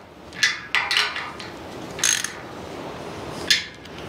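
Ratchet clicking while tightening bolts on a Kreg table, four short bursts of rapid pawl clicks close to the microphone, separated by quiet pauses.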